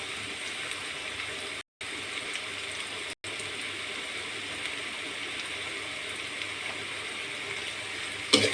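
Onions being reddened in a pan give a steady, dense sizzle that continues without a break, broken only by two brief dropouts, with no talking over it.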